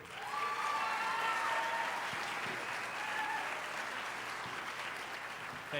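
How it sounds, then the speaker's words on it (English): Sustained audience applause from a crowd at a 2003 competition event, steady dense clapping filling the space without pause, with no talking over it. "you need to clap again"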